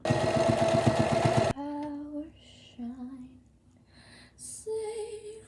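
A sewing machine stitching the corners of a fabric makeup bag runs in a fast buzzing burst for about a second and a half, then stops; a quieter voice follows.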